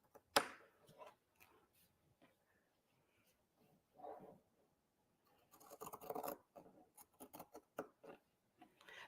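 Pinking shears snipping fabric for a Christmas tree garland, a sharp crunchy cut at the start followed later by clusters of quick, close snips and scratchy fabric rustles, separated by near silence, with faint talk in between.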